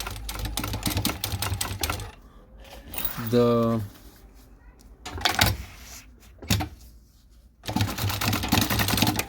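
A sewing machine stitches the closed ends of a utility pouch in several separate bursts of rapid, rhythmic needle clatter, with a voice talking between the runs.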